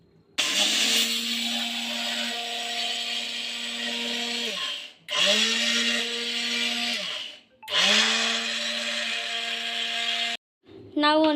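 An electric mixer grinder powders fenugreek and cumin in three loud whirring runs of several seconds each, motor pitch dropping as it stops between pulses, followed by a brief final burst.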